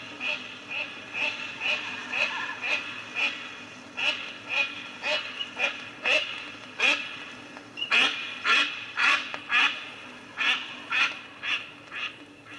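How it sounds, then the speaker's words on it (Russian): Ducks give a run of repeated quacks as they fly low over a pond, the calls rising and falling in rhythmic bursts against a soft outdoor background, fairly close and clear with no talking. "никакая уважающая себя уточка не откажется от удовольствия пролететь на прощание с кряканьем над родным водоемом"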